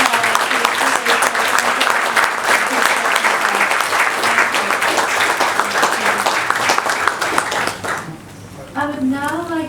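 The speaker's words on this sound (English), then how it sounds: "round of applause." An audience at an ocean carbon investment panel session gives the panelists a round of applause, sustained dense clapping filling the room before it fades and a voice begins speaking.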